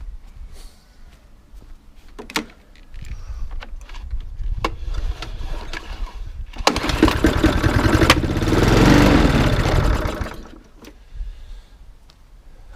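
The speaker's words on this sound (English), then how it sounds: "So we've got compression and also the engine fired." A Mountfield HP474 petrol lawn mower engine after a pull on the starter cord. Faint clanks and rattles come first, then the engine fires with a loud, rough, rising burst of combustion that runs several seconds before dying back down.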